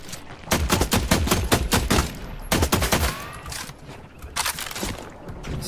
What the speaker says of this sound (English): Time to shoot it all down.